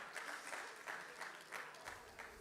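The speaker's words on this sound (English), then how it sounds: "Round of applause for my brother, please." Applause from a small gathered crowd at a 13th Rajab celebration in Manchester, a short burst of clapping with rhythmic pulses, moderately faint and steady.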